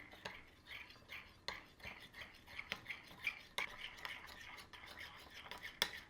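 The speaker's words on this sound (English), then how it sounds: "Now that we've let that sit, we're going to just stir it and it'll come together" A utensil stirs chopped chocolate and cream into ganache in a bowl, giving soft, repeated scraping and clinking strokes that come close and fairly quiet, with no talking.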